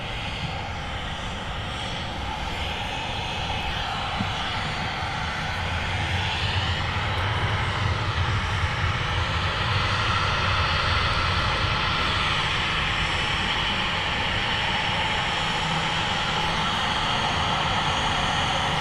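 Airliners taxiing and taking off at Manchester Airport, a steady loud roar of jet engines that swells and holds throughout, with a low rumble building midway as one aircraft rolls down the runway.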